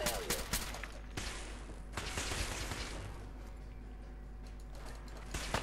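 Gunfire and mechanical weapon clatter in the video game Fallout 4, a few sharp close shots at the start and later, with a rattling mechanism noise and a roaring din between them.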